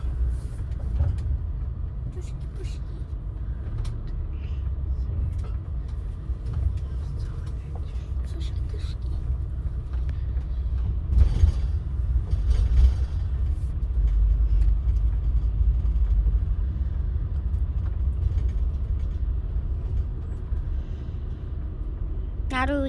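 Car engine rumbling steadily aboard a ferry crossing to Ireland, a continuous low drone with a brief louder swell midway, heard from inside the vehicle with occasional voices.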